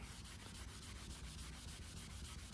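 Excess gelcoat is sanded off the hull of an old Boston Whaler boat, giving a steady, close, rapid rhythmic scratching rasp that continues without a break and without talk.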